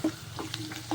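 Tamarind with seasonings frying and bubbling in a pan for nalleru stem chutney, a soft crackling sizzle with faint stirring and a low steady hum, brief and close.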